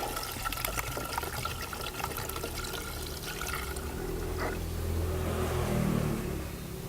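Water from a second bottle poured into the cooling system of a Ford Focus 1.6 Mk1, a steady gurgling pour that swells a little toward the end, with no talking.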